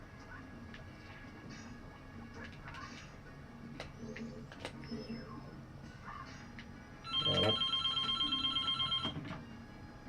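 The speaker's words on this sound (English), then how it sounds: "Just my stupid phone again that I always forget to turn off before doing this." A mobile phone rings loudly nearby, a bright electronic ringtone repeating for a few seconds over quieter background noise and clicks, with a brief spoken word just before it.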